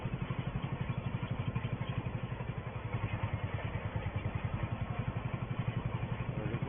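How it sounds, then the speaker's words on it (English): A 1964 Porsche tractor chugs steadily while pulling a single grass roll across a field at Attingham Park, its low rapid engine pulse constant and even throughout, moderately near with no talk. "this Porsche tractor will stay a little while on the grass roll"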